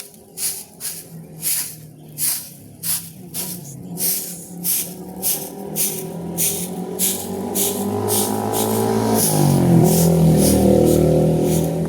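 A motorcycle engine revs in a series of rhythmic bursts, then climbs into a sustained, rising roar that grows louder and steadier toward the end.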